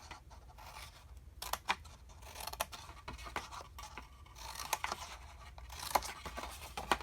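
Scissors snipping angled notches into a paper gift bag, close and quiet, as a series of short crisp cuts and rustles spread irregularly across the moment.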